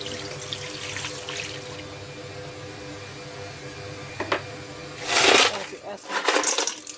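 Water is poured into a pot for cooking rice for Hainan chicken rice in a rice cooker, a short splashing gush near the end after a quiet stretch with faint kitchen background.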